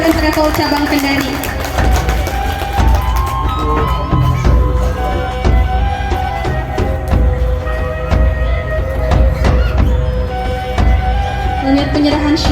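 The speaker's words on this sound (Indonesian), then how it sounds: "Tepuk tangan yang meriah untuk PT Lama Motor and Travel Cabang Kendari." Crowd applause and cheering at a ceremony for a Hajj and Umrah travel agency branch in Kendari, Sulawesi Tenggara. The applause is a dense, steady wash over a busy background with a tonal, music-like layer, and it runs throughout.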